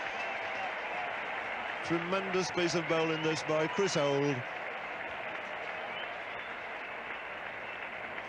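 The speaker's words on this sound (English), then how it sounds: "And listen to that applause." Applause from the crowd at a 1978 England v Pakistan Test cricket match rolls on as a steady, somewhat distant wash under a commentator who talks through part of it.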